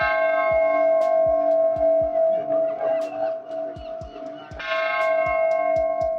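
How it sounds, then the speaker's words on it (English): A large peace bell tolls steadily with a deep sustained ring, struck repeatedly at an even pace, its long resonant hum lingering between strikes. "He rings the bell at 1313 or 113"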